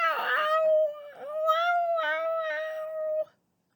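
A human voice imitates a cat, giving a drawn-out, wavering howling meow that rises and falls for about three seconds before cutting off, close and fairly loud.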